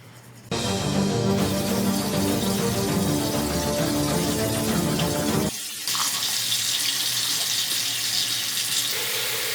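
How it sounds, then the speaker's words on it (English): Tap water runs into a bathroom sink during a nighttime tooth-brushing routine: a loud, steady gush that starts abruptly, briefly dips, then continues with a brighter splashing tone, with no talking. "let's brush our teeth"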